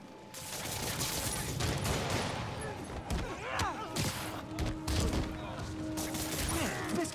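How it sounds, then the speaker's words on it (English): Henchmen's gunfire in Marvel's Spider-Man Remastered on PS5, scattered shots and impacts amid chaotic combat noise, with voices talking over the action. "Somebody just shoot him!"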